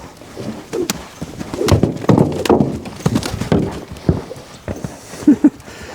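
An untrained Arabian stallion runs loose in a pen, hooves thudding in uneven bursts with clip-clop beats and heavy thumps, close by and fairly loud, with a few louder hoof strikes near the end.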